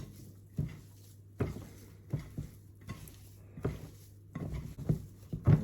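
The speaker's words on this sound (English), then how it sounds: "Let's mix the other one with the Reblochon." Cheesy pasty filling being mixed with Reblochon in a bowl for French tourtons, a series of soft, irregular scrapes and dull knocks of a utensil against the bowl, close and fairly quiet.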